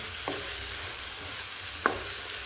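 A soft, steady sizzle of a spice tempering (tadka) frying in hot oil, with a couple of faint clinks from a utensil stirring the pan.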